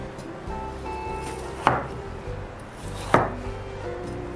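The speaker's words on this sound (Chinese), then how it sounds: "再来切点冬瓜，" A knife chops winter melon on a cutting board in a kitchen, landing two sharp, distinct strikes about a second and a half apart over a low, steady room hum.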